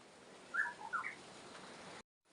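Birds call in a village garden in the hills, a few short chirps and whistled notes over a steady faint background hiss, quiet and somewhat distant, no talking.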